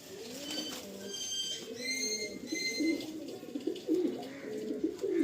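Madrasi pigeons cooing close by in repeated soft, throaty rolling coos, with sharper bird chirps mixed in during the first half.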